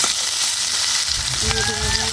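Onions with chili, cumin and ginger pastes frying in hot oil give a loud, steady sizzle that carries on without a break for the whole moment.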